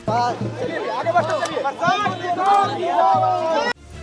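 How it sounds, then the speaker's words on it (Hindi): Crowd chatter and shouting at a Prashant Kishor election rally in Raghopur, Bihar, a dense continuous hubbub of many voices that cuts off abruptly near the end. "बड़ी भीड़ उनकी झलक के लिए उमड़ पड़ी"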